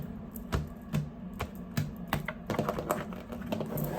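A deck of cards with dragon cards in it being shuffled by hand: a close run of quick, crisp clicks and taps in uneven bursts, with no talking.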